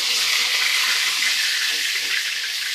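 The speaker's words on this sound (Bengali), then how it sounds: "মাছটা ভাজা হচ্ছে" Fish frying in a pan of oil for a doi katla dish, a steady bright sizzle that hisses continuously and close by, with no voices over it.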